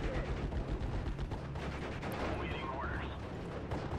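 Distant battlefield gunfire in the World War II strategy game Steel Division Normandy 44 comes as a steady rumble of scattered rifle and machine-gun shots, fairly faint and continuous beneath a voice speaking.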